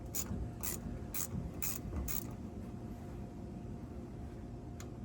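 A ratchet clicks in a short burst of five or six quick strokes on an axle bolt of a 1985 Chevy C/K pickup, up close over a steady background hum, then goes quiet.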